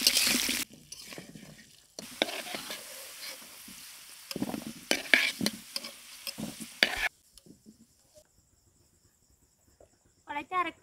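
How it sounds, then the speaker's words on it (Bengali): Potato pieces with salt and turmeric fry in hot mustard oil in a pan, sizzling and stirred in bursts, with stretches of quiet between them. "তেল গরম হয়ে গেছে, এবার আলুগুলো দিয়ে দেব"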